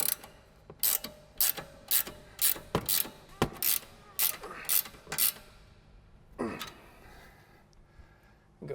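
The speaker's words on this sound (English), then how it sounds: "an 18 millimeter wrench to go ahead and tighten things down" Ratcheting wrench clicks in quick regular bursts as an 18 mm wrench tightens a sway bar nut while an 8 mm socket holds the shaft on a Mustang S197, close and crisp, followed by a brief scraping creak.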